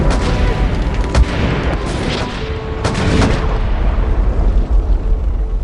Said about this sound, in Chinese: 整个农场以及老马的房子全部被炸毁了